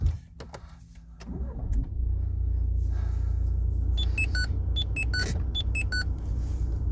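A Renault Kadjar diesel engine turns over and settles into a steady low rumble, with a few short electronic beeps chiming over the idle.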